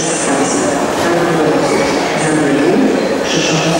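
Koleje Śląskie accelerated passenger train at a station, a loud close rumble of wheels and carriages rolling past with faint squeals and rattles, a steady wash of noise with no pauses.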